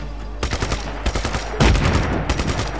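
Rapid bursts of Just Cause 3 video game gunfire crackle in quick clusters, with a loud sustained volley near the middle, punchy and close with a low rumble beneath.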